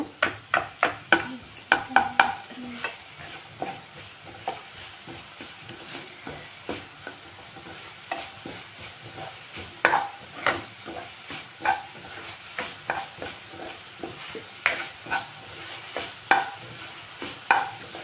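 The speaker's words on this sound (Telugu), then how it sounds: "ఇలా ఆనియన్స్ వేగినాయి ఇలా చూద్దాము" Onions sizzle in hot oil while a spoon scrapes and stirs them around the pan in quick bursts of clinks and scrapes, pausing and resuming, close and clear with no talking.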